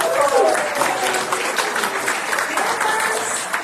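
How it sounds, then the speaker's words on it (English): A congregation applauds during a Sunday celebration service, a steady wash of clapping with a brief voice at the start. "One more round of applause for our beautiful"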